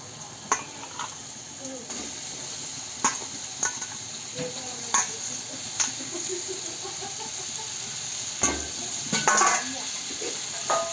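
Washed goat tripe (boti) fries with ginger and garlic in a pan, giving a steady sizzle broken by sharp clinks of stirring, with faint background voices.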